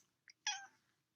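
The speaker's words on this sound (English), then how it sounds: "That's my cat." A pet cat gives a short chirp followed by a clear, drawn-out meow, close and alone in a quiet room.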